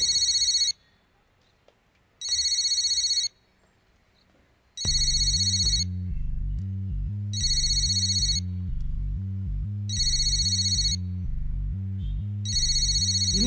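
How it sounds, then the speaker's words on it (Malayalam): A telephone rings in repeated electronic bursts, first alone with pauses between rings, then continuing over a loud rhythmic music track with deep bass pulses, the ringtone staying bright and prominent throughout. "ആ അവിടെ ഫോൺ റിങ് ചെയ്യുന്നുണ്ട്"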